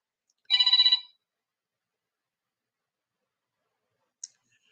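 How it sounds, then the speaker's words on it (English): A telephone gives a single short burst of trilling electronic ring for an incoming call, fairly loud, followed by silence and a faint click near the end. "wow, we got a phone call."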